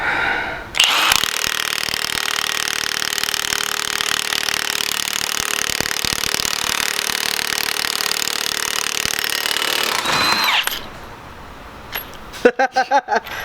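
A Milwaukee high-torque 1/2-inch impact wrench run on its max setting gives a loud, continuous buzzing hammer for about ten seconds. It stops abruptly, and a few short sharp clicks and knocks follow.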